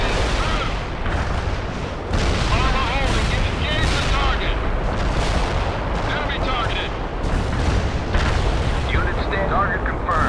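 Rocket artillery barrage from an MLRS striking a building in the strategy game World in Conflict, a loud continuous rumble of booms and blasts with crackling impacts throughout, under game voice chatter.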